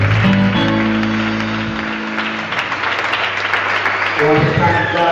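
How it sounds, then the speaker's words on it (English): Church congregation clapping their hands together at a Mountain Assembly Church of God service, steady dense clapping mixed with sustained organ or keyboard tones and some voices. "Will you clap your hands together?"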